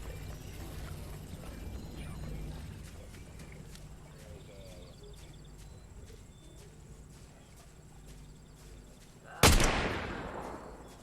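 A loud gunshot from a Fortnite match rings out once near the end, rising sharply above quiet game ambience and background noise, then trailing off in a short decay.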